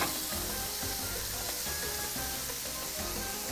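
Onion, habanero and scallion sauté in a pan, a dense, constant close sizzle that fills the whole moment without talking.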